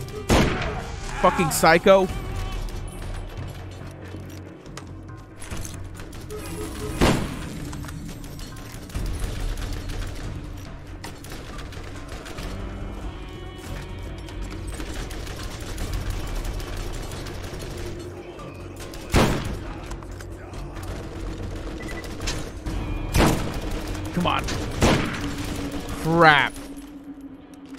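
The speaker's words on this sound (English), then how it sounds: "Oh, they're all shooting at me!" Enemies firing at the player in Borderlands: scattered gunshots and bursts, some sharp and loud, others distant, spread across a long stretch of game ambience, with someone talking at times.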